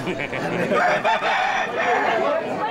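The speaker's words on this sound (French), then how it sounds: "Et l'avenir des combats de coq semble bien assuré." A rooster crows at a cockfight in Nicaragua. The drawn-out, strained call rises and falls loudly and close over a noisy background.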